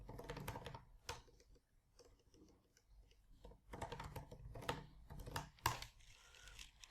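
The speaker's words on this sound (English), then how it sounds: "And I will type the commit message." Someone types a commit message on a computer keyboard: quiet, irregular key clicks in short bursts, with a few sharper strokes and no talking.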